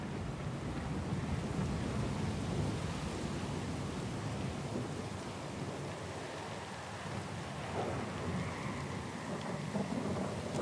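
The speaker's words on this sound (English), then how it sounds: "Lost and alone in the storm?" A thunderstorm with heavy rain at sea in Pillars of Eternity II: Deadfire makes a dense, continuous hiss of rainfall over a low rolling rumble. It holds steady throughout, with no voices.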